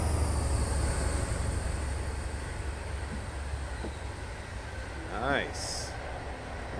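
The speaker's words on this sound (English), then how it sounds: "That looks like a high-speed train right there." A high-speed passenger train passes on the West Coast Main Line in the Train Simulator 2016 game, a steady rolling rumble filling the clip, with a brief rising whine near the end and a short spoken word.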